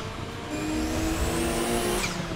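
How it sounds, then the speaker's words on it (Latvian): A video-game car engine drones steadily with tire squeal and a sliding, rising whine as the car drifts, heard alone and fairly loud without talk. "Mašīna."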